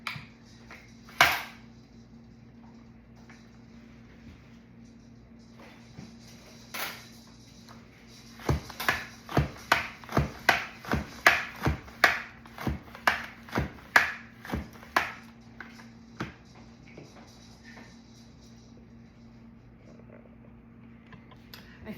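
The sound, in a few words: slicing jalapeño peppers with a slicer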